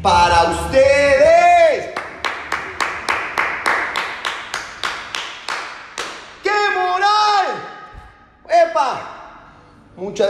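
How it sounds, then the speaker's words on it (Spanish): Gym class participants clap together in a steady, rhythmic beat of sharp claps, framed by a loud voice talking before and after. "Los aplausos son para ustedes."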